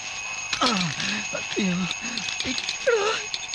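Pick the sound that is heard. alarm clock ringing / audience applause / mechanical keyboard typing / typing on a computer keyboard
alarm clock ringing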